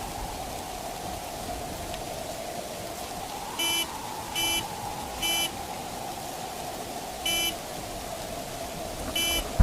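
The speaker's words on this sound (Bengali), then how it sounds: "মনে হলো গাড়ির হর্ন।" A car horn beeps in short bursts through a stormy drama soundscape, five separate honks spaced a second or so apart over a steady wind-and-rain roar, fairly distant and muffled.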